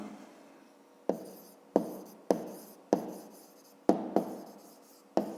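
A pen scratches on paper while a math answer for a fifth-grade exercise is written down: a series of sharp, close strokes arriving in irregular bursts about every half second to second, with no talk.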